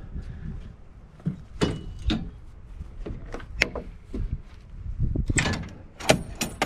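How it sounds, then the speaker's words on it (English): Latches on the side of a 2020 Kawasaki Mule seat are undone and the seat is flipped up, giving a series of sharp plastic-and-metal clicks, clunks and thumps close by, spread irregularly with no talking. "then you just flip the bed up, or the seat up"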